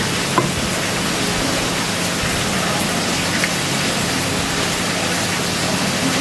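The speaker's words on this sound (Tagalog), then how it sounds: "habang nagpiprito tayo kay Eli, timplahan na natin yung sausawan natin" Continuous dense crackling hiss of food frying in a pan, steady and close, with no talking.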